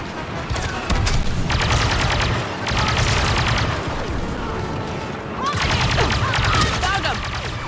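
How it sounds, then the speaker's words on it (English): Heavy blaster fire and explosions from a Star Wars Battlefront 2 battle, dense overlapping volleys swelling in three loud waves over a constant rumbling bed, no voices over the barrage. "Stay here and lay down cover fire."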